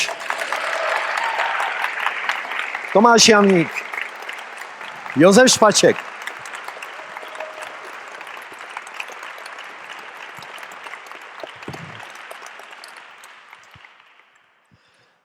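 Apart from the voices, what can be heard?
audience applause welcoming musicians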